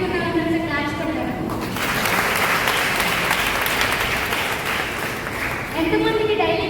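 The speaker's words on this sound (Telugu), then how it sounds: "హ్యాపీగా ఉన్న వాళ్ళందరూ క్లాప్స్ కొట్టారా?" An audience at a students' meeting claps for about four seconds, a dense burst of applause set between stretches of a speaker's voice at either end.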